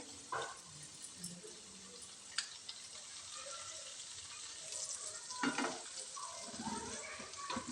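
Amla pickle mixture with asafoetida sautéing in a pan makes a continuous frying sizzle, broken by several louder scraping stirs of a spoon against the pan, close up and with no one speaking.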